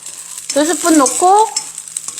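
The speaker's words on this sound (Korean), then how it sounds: "볶고 있는 거예요. 마늘종만 넣고." Garlic scapes stir-fry in about two spoonfuls of cooking oil, giving a steady close hiss and sizzle, with a brief voiced tone rising over it partway through.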